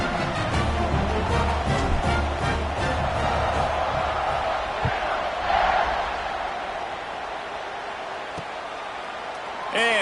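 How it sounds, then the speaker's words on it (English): Large football stadium crowd at a college game roars and buzzes steadily after a touchdown, a dense sustained wash of cheering voices with a broadcaster talking over it. "this crowd is buzzing after that last score."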